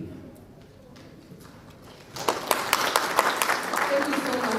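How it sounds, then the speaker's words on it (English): Applause from the audience at the Kenya Peering Forum 2025 conference breaks out after a couple of seconds of quiet room noise, a burst of scattered clapping that stays steady to the end, with voices in the background. "I think he deserves a better round of applause"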